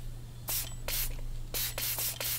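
Blue disinfectant sprayer in the game FNAF Help Wanted 2 fires five hissing bursts in an uneven rhythm, each lasting a fraction of a second, close and fairly loud over a steady low electrical hum.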